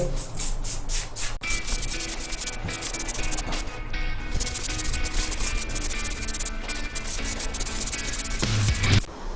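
Homestar mold remover sprayed onto a veranda wall, a series of close, hissy spray bursts and rubbing sounds repeating rapidly at a steady level.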